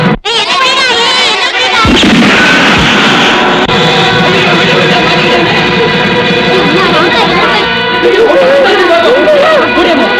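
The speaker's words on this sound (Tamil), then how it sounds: "தங்கா கிணத்துல வெடி வச்சிருக்காங்க," A loud explosive blast goes off in a well in a 1985 Tamil film scene, a sharp burst followed by sustained rumbling noise and a dense roar that stays heavy throughout.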